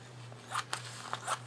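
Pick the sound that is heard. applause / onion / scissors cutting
scissors cutting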